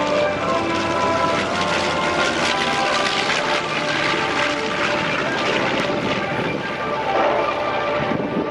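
Military aircraft roar loudly at an air show as a Messerschmitt 262 jet takes off, a dense, continuous engine drone with wind buffeting the microphone.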